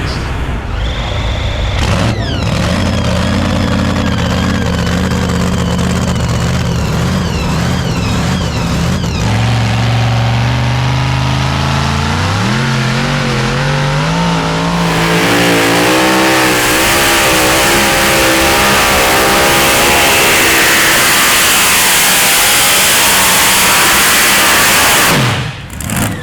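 A pulling truck's engine roars and revs hard during a truck pulling competition, loud and close, climbing in pitch through the run and ending in a sustained full-throttle scream before cutting off abruptly.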